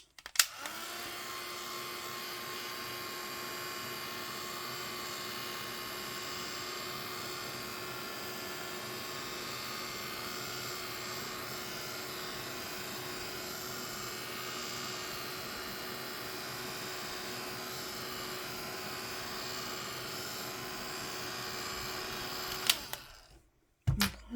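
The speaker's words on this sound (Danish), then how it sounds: "Så jeg tørrer den lige med heatgun. Det kommer lige til at larme." A heat gun runs continuously for over twenty seconds while drying paint, a steady loud whirring blower hiss with an electric whine, switched on and off with clicks at the start and end, no talk.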